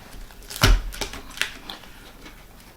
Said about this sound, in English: I want to take these tails and I want to pretty much cut them in half lengthwise